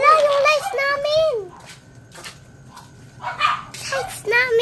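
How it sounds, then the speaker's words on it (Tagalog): Dogs barking outdoors, several yips and barks mixed with children's excited talk, mid-distance and partly masked by the voices. "Ang ingay ng mga aso!"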